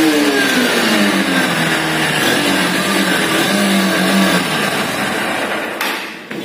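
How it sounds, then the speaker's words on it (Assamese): A Honda Hornet 2.0 Repsol edition motorcycle revs through its side-mounted exhaust, a loud, close engine note that rises and falls in pitch with the throttle, then cuts off abruptly near the end. "এইডাল হ'ল বাইকখনৰ ছাইড মাউণ্টেড এক্সজষ্ট, এণ্ড ইয়াৰ চাউণ্ডটো মই এতিয়া শুনাই দিম আপোনালোকক।"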